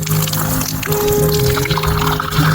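Spring water pours from a built stone spring outlet in a close, steady stream, splashing and gurgling loudly and without pause.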